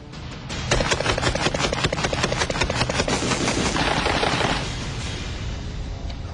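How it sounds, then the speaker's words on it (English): An AA-12 automatic shotgun fires a rapid continuous burst from a 20-round drum magazine, loud, close shots in quick succession for about four seconds before stopping. "to test out the AA-12's rate of fire, I've loaded a drum magazine holding 20 rounds"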